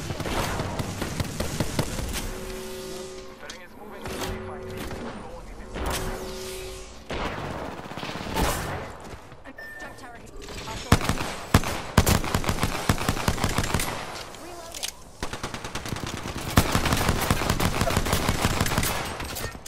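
Rapid bursts of gunfire from Apex Legends, including a P-2020 pistol, crackle in dense clusters with loud, sharp volleys building toward the end amid game music and effects.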